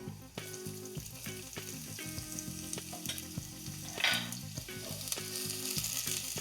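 Red onions hitting a hot pan of garlic give a steady close sizzle, with a brief louder crackle about two-thirds through, all over a sustained tonal background.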